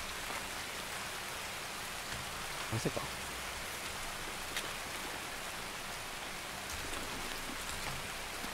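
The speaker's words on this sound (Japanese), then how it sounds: "雨の音で全然聞こえんわ。" Rain in the game Escape from Tarkov, a dense, steady hiss that covers the whole stretch, with a few faint thumps and a brief voice underneath.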